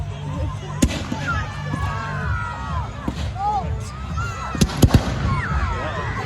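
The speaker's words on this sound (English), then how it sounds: "That's what fireworks do." Fireworks bursting on bonfire night, with several sharp bangs and crackles over a steady crowd murmur, people talking and cheering close by while louder booms land near the start and a quick cluster follows later.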